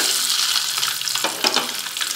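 Eggs frying in oil in a pan with chili powder, turmeric and salt, a steady close sizzle with a few brief scraping stirs, no talk.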